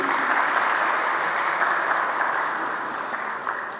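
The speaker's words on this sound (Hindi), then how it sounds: "एक बार बहुत सारी तालियां प्लीज़।" An audience at the inauguration ceremony for a Daewoo electric bus service in Lahore breaks into loud, sustained applause, a thick, steady wash of clapping that tapers a little near the close.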